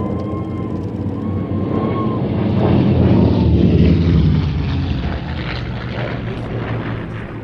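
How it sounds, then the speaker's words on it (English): A P-51 Mustang propeller fighter performs an airshow routine at Sywell, its piston engine droning loud and steady, swelling as it passes close and easing away, with no talk over it. "Expertly piloting the P-51 is Eskil Amdahl."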